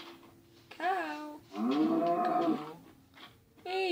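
Cow mooing in the game Minecraft: three low, drawn-out moos in succession, the middle one longest and loudest, clear and close with no talking.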